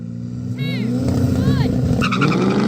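A 750hp Nissan Skyline R34 GT-R, a 735hp Mustang and a BMW M3 launch in a drag race with heavy wheel spin: engines roar loudly and tires squeal in short chirps while a voice talks over the noise.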